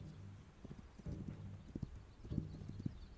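Horse hooves clip-clop in the video game This Land Is My Land, a few irregular clusters of steps over a low ambient bed, moderately near with no talk.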